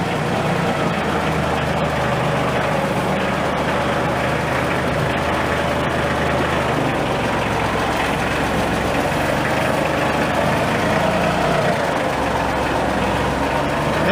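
A small hobby-farm tractor engine runs steadily at a low, even idle. The rumble stays constant and fairly close the whole time, with no talk over it.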